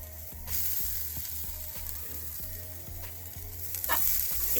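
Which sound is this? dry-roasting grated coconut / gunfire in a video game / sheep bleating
dry-roasting grated coconut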